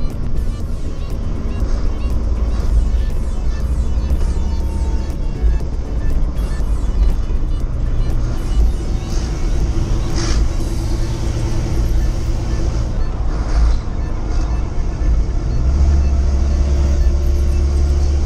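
LMTV military truck driving, a loud steady engine rumble and road drone running continuously from start to finish, with brief talk over it.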